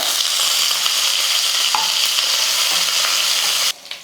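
Skin-on crushed garlic, dried red chili and curry leaves sputter in hot oil, a dense close sizzle that runs steadily and then cuts off abruptly near the end.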